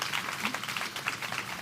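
Audience applause for debate panelists at a tropical biodiversity panel, a short steady burst of clapping that fills the moment at moderate level.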